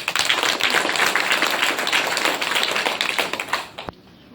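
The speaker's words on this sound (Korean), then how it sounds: "그런 분들을 위해서 박수 한번 보내주세요" Audience at a character-education center's founding event applauding together, a dense, steady wash of many clapping hands for about four seconds before it stops abruptly.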